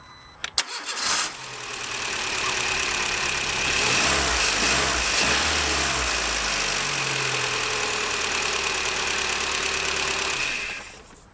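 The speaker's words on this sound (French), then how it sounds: "je vais effectuer un démarrage pour vérifier que tout fonctionne correctement" A Renault Twingo with a 1.2 16V petrol engine, just fitted with new spark plugs, cranks briefly with a few clicks, fires up loudly and settles into a steady, even idle before shutting off.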